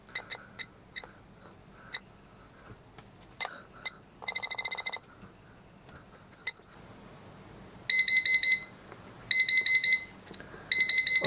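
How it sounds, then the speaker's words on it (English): A digital wooden clock's alarm beeps sharply, first in single spaced chirps, then in rapid bursts, and finally in long repeated pulsing runs of high electronic tones, close and loud in a quiet room. "It's your very generic alarm beeper."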